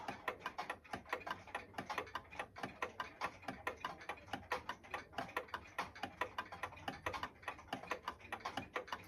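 A Craftmade decorative ceiling fan spins down, giving off a steady, fast rhythmic ticking and clicking that repeats evenly throughout, close and fairly quiet, with no talking.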